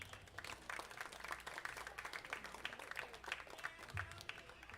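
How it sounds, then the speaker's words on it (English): A crowd at a varsity baseball senior night claps for a senior player, a faint, steady patter of applause from a distance that runs throughout without a break. "let's get one more round of applause for the baseball class of 2026"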